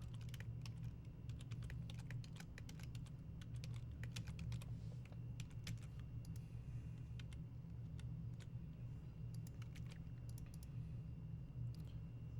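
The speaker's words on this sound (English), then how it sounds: "I'm going to type it on my other screen" Steady clicking of a computer keyboard being typed on in uneven bursts, faint and close over a low background hum, with no talking.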